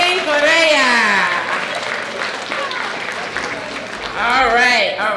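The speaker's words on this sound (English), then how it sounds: "All right, a round of applause." An audience at an oratorical contest and art competition event gives a round of applause. The clapping is steady and sustained, and a speaker's voice talks over it for most of the stretch.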